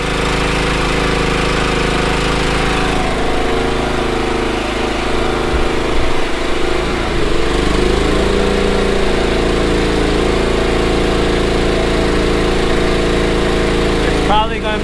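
Champion 100520 generator running on natural gas, a loud steady engine drone with a brief sputtering irregularity partway through, then even running again.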